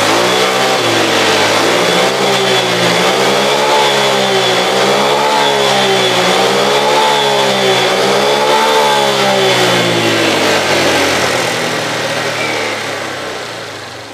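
A Honda Vario 125 scooter engine is revved and held at a steady high pitch, roaring loud and close in a workshop for about fourteen seconds before easing off slightly at the end. No one speaks.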